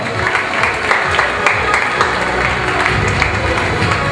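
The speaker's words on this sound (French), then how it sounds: "applaudissements pour toutes nos candidates" Audience applause for beauty pageant contestants, a dense steady wash of clapping with crowd noise and some voices mixed in throughout.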